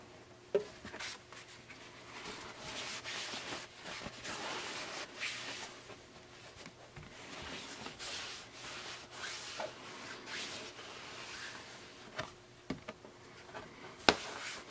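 Rubbing a vinyl record dry after washing in a Spin Clean machine. Soft cloth rubbing strokes sound in an uneven rhythm, close and quiet, with a few small knocks toward the end.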